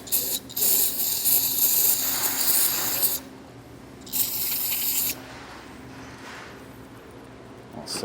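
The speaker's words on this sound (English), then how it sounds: "that's what we're going to do with some brake clean, just to kind of clean this up a bit more" Brake cleaner hisses from an aerosol can onto a trailer's Dexter bearing protector in two bursts, a long spray of about three seconds and then a shorter one, with quiet shop ambience between.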